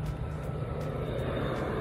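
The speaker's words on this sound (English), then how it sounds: "that was a plane that just went over" Airplane passing overhead during lawn mowing, a steady broadband drone with no voices over it.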